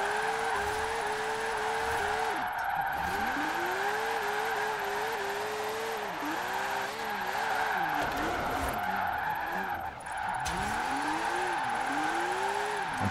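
A retro front-engine, rear-wheel-drive Porsche driven hard in Forza Horizon 4, its engine note rising and falling steadily through gear changes with continuous tire noise, loud and close with no talking.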